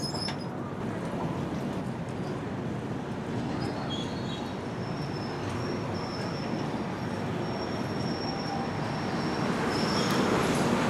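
Madurai–Lokmanya Tilak Terminus weekly express train rolling past on Indian railway track, a steady loud rumble of wheels and carriages with faint high squeals of wheels against rail throughout.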